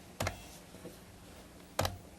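A computer keyboard in a studio during a WordPerfect demonstration: a few isolated, crisp keystrokes, two clearer clicks at the start and end with a faint tap between them, over quiet room noise.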